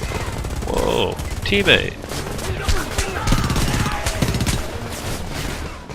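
Rapid automatic gunfire in the Homefront video game, dense bursts of shots near and far under brief shouted speech.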